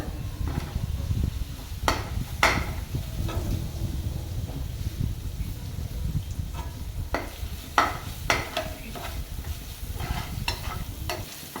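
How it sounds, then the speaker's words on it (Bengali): Ginger-garlic paste and spices fry in a pan for prawn masala, a continuous sizzle broken by repeated sharp scraping and clinking stirring strokes, close and fairly loud, with no speech. "আমি ভালো করে মশলাটা কষে নেবো বন্ধুরা।"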